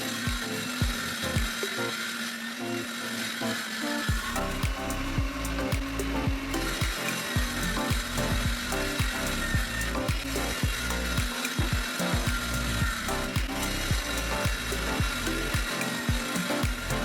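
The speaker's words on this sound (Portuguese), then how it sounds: "Comecei por cortar todas as peças. A madeira que vou utilizar é contraplacado de 10 mm." Power saw cutting pieces of 10 mm plywood, a steady close mechanical whine with repeated rattling, ratcheting bursts as each piece is fed through, continuous and loud with no talking.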